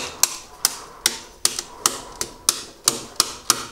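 Circuit breakers in a home electrical panel being switched off one after another, a series of sharp, close snapping clicks at a fairly even pace.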